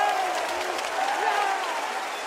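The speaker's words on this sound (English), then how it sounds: "Oh, the crowd is on their feet." Arena crowd at the Royal Arena roaring, cheering and applauding at a CS:GO grand final between FaZe and Heroic, a dense sustained wall of noise with whistles, while a commentator talks over it.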